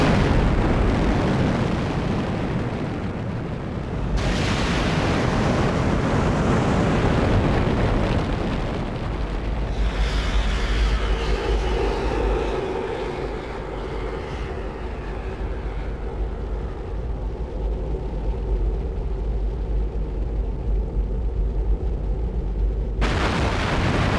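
Apollo rocket engines ignite at liftoff with a massive, roaring wall of broadband thunder that swells and persists for over twenty seconds, loud and continuous, shifting into a deeper crackling rumble before cutting off abruptly.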